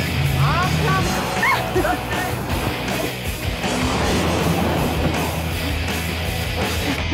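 A team of sled dogs out on a dog-sledding run raises a steady, overlapping chorus of yips, whines and excited barks, loud and close throughout, with faint human voices mixed underneath.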